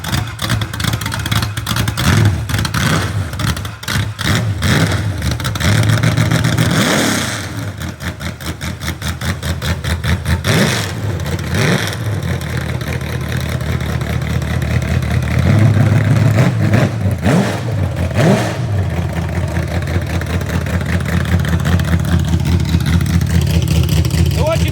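A rebuilt 1970 Corvette LT1 V8 runs loud and close, idling with a lumpy rumble and repeatedly revving up and settling back, while people talk over it at times.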